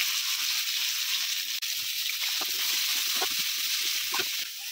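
Onion fries in hot mustard oil with bay leaf, a steady bright sizzle close up, broken by a few light taps and stirring clicks.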